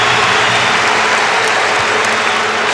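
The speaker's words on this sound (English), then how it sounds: "listen to the crowd respond to Milko Levers." A large crowd of just under 10,000 at a college basketball arena applauds and cheers for a player, a loud continuous wash of clapping and voices.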